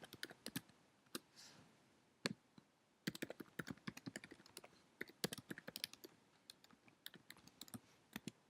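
Rapid bursts of computer keyboard typing as a name is entered, crisp close keystrokes in irregular clusters with short pauses between, quiet room and no voices.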